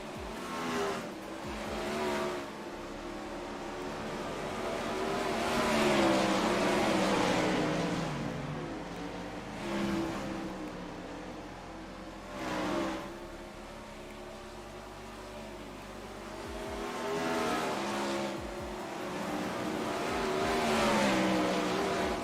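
Non-wing 410 sprint cars run hot laps on a dirt track at Volusia, their engines roaring and howling continuously as they pass, with loudness swelling and fading on each lap and no voice heard.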